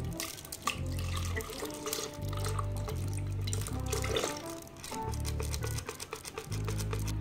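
Milk poured from a carton into a glass for a milkshake made with fried catfish, a steady liquid trickle running through the whole stretch with a low background hum and no talking.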